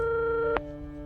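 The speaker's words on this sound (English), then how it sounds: "She picks up an old-timey hotel phone and calls up an orphanage" Steady tone from an old-timey hotel phone in an old hotel, heard as a sustained near ring-back or busy tone cut by a brief click about halfway through, then continuing more faintly.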